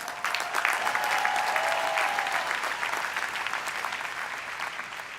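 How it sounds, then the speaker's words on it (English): A university commencement crowd breaks into a loud round of dense clapping that swells quickly, then slowly thins while staying strong to the end; a faint tone sounds briefly near the start. "please show your appreciation with another round of applause"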